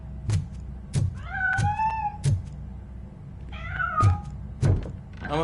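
A cat in the RoboCop video game meows twice, up close, between heavy regular thunks like footsteps or knocks that land about every second, with no talking.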